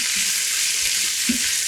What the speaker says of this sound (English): And stir that and let it saute until it's a little bit lightly colored